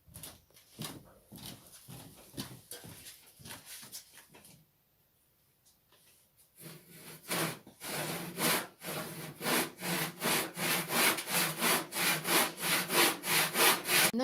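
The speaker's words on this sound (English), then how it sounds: "now if I put my saw in there and cut that, all of my cuts are going to be exactly 60 degrees" Hand saw cutting wood for a hexagonal planter, a short burst of strokes, a pause, then a loud, steady run of rapid, rhythmic rasping saw strokes up close.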